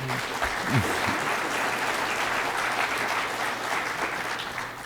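An audience at a sustainable communities conference claps in a sustained, dense burst of applause that fills the hall evenly for several seconds without any speech.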